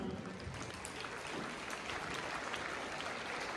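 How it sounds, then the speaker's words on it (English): Faint, steady applause from a school audience honoring meritorious students, a dense wash of distant clapping with no voices, holding evenly for a few seconds. "big round of applause for everyone"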